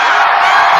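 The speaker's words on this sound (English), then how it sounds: "Listen to the crowd." A large arena crowd at a concert roars and cheers in a sustained, loud, dense wall of noise with no break.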